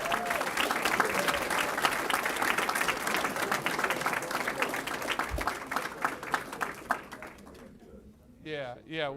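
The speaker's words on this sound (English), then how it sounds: "one more round of applause for Oak Park football." Round of applause for a school football team at a school district board meeting, sustained clapping from a room of people that thins out and fades, followed by a voice speaking at the end.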